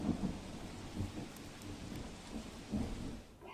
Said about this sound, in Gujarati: પાદરામાં ધોધમાર વરસાદ છે